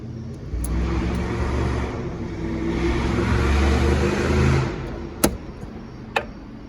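A Ford Mustang's 4.6 V8 rumbles steadily and close for several seconds, swelling slightly before cutting off, followed by two sharp isolated clicks.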